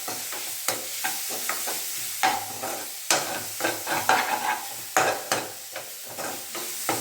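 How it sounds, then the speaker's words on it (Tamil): Garlic and grated coconut roast in a pan for a broad bean poriyal, a soft crackling sizzle under repeated sharp spatula scrapes and taps against the pan at an uneven rhythm. "பூண்டும் தேங்காயும் நல்லா இப்படி வறுத்துக்கலாம் கொஞ்சம்."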